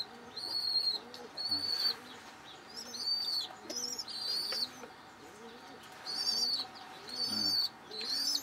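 Racing pigeons coo in repeated soft, throaty phrases at a steady pace, with higher chirps mixed in and a constant background murmur.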